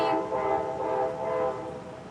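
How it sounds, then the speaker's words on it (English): A train passes through a city, a steady loud rumble with a sustained horn blast layered over it, continuous and close throughout. "Train."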